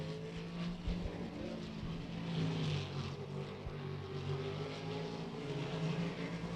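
A race car circles Beckley Motor Speedway on a qualifying lap at the Cowboy Classic. Its engine drones steadily at middle distance, rising and falling slightly as it moves around the track.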